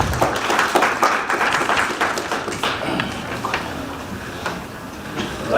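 Audience applause at a peace-building event, a sustained patter of many hands clapping that fills the space and slowly thins toward the end, with no talk over it.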